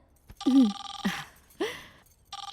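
A telephone rings in short repeated tonal bursts with pauses between them during a Bhojpuri film scene, loud and close with no speech over it.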